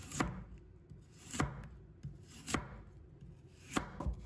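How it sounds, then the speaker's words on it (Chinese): A knife chops a peeled potato on a cutting board into thick slices and strips, with sharp, distinct thuds spaced about a second apart and no talk over them. "再准备一个去皮的土豆，把它切成厚片"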